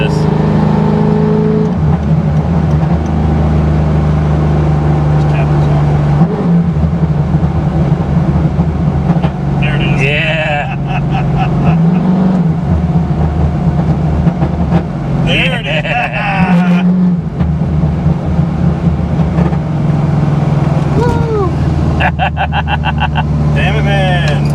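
Pontiac GTO with a six-speed, its engine blipped under light throttle, rising in a few short revving bursts with crackling exhaust pops between them, close by and loud, with people talking over it.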